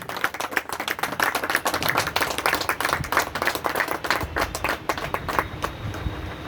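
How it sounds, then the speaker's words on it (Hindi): A crowd applauds at a birthday celebration held at Saharsa Stadium in Bihar with steady, brisk clapping that continues throughout without speech. "तालियों की गड़गड़ाहट होनी चाहिए।"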